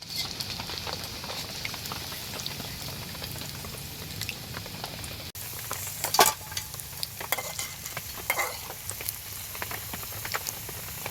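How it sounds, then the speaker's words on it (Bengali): Pakoras sizzle as they fry in hot oil at an outdoor jungle picnic, with a dense, continuous crackle and bubbling broken by a few sharper spatters and stirring clinks, close by and fairly loud. "তো আমাদের তেল গরম হয়ে গেছে, এবার আমরা পকোড়াগুলো ছাড়বো এর মধ্যে"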